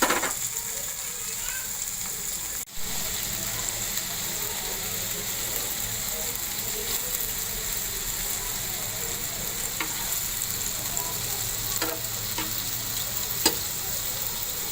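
Chicken seekh kababs frying in a pan on a low flame give a steady, close sizzle that runs throughout, with scattered scrapes and clicks and one sharp knock early on.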